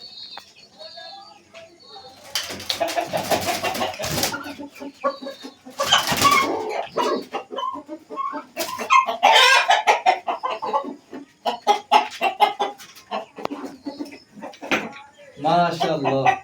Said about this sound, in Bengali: তো আজকে মোরগটা ধরবো